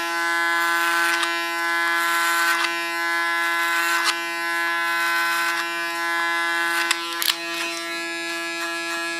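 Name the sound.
hair clippers cutting hair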